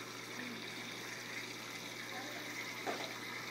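A small waterfall runs steadily inside a planted jungle aquarium, a constant close trickling rush over a faint low hum, with no pauses.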